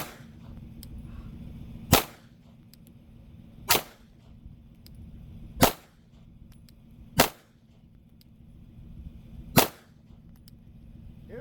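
Five sharp, loud pistol shots from a Glock 48 at an outdoor shooting range, spaced roughly two seconds apart, each with a crisp crack and brief echo over quiet background.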